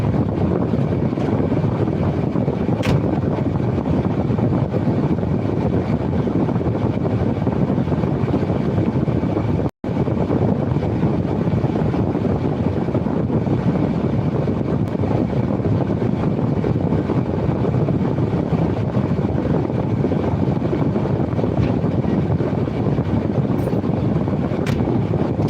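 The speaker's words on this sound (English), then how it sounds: "Let me turn the blower on again." A blower runs continuously as a steady, loud broadband whoosh with a brief cut near the ten-second mark, then carries on unchanged with no voices.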